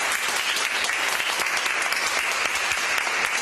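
Hospital staff in Gran Canaria applaud a patient who recovered from COVID-19: sustained, dense clapping from a sizable crowd, steady and fairly loud from start to finish with no clear speech.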